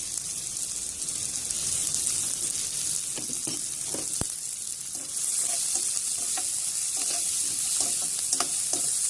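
Chopped carrot, capsicum and cabbage sauté in a hot pan for egg fried rice, giving a constant close sizzle broken by scattered clacks and scrapes of a spatula stirring the vegetables.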